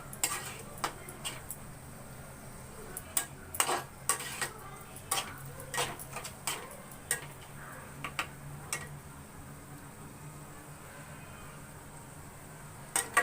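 Potatoes frying in oil on a hot pan for a Sourashtra-style potato poriyal, with irregular clinks and scrapes of utensils over a steady low sizzle, fairly quiet and close.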